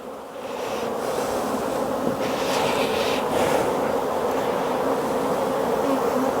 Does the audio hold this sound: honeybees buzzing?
yes